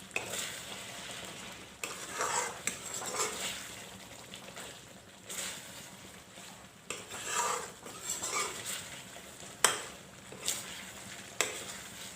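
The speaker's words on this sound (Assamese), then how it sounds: "এতিয়া অলপ সময়ৰ কাৰণে ভাজি ল'ব।" Egg and potato curry sizzles in a frying pan while a utensil stirs and scrapes it in repeated bursts, close and steady, with faint clinks of cookware and no talking.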